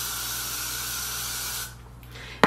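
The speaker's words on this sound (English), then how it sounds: "I'm gonna spray the top with Got to Be Glue." An aerosol can of Got to Be Glue hair spray sprays onto the top of a wig in one long, steady, close hiss that stops, followed by a short sharp knock.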